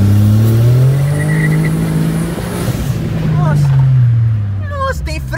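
A turbocharged VW Up 1.0 TSI accelerates hard, its engine droning loudly and steadily climbing in pitch through the gears, with a brief shift dip midway and faint squeaky noises near the end.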